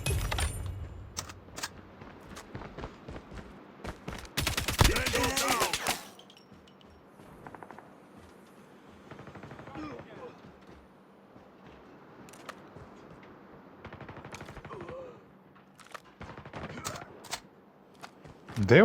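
Gunfire in the mobile game Call of Duty Mobile: dense bursts of automatic fire, the loudest near the start, then scattered shots and impacts under ongoing talk between players.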